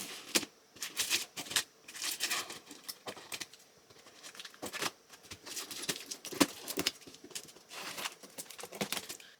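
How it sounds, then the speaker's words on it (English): Scissors snip and crunch through a cardboard box in quick irregular bursts, close and fairly quiet, with short pauses between cuts. "Let's cut this box open."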